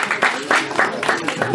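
Audience applause welcoming Guy Astic, festival director, to the stage at a short-film festival closing ceremony, a brief burst of dense clapping with some voices mixed in.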